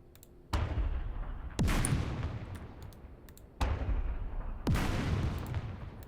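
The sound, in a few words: turret firing in the video game Second Front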